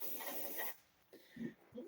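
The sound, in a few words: spraying to clean a keyboard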